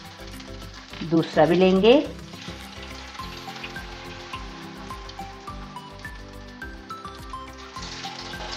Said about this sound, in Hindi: और मीडियम फ्लेम पे फ्राई करेंगे।